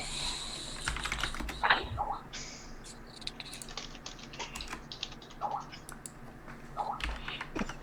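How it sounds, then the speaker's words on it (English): Steady typing on a computer keyboard, with quick irregular key clicks running throughout at moderate closeness, some voices talking faintly underneath at a tabletop game session. "That's a lot of typing."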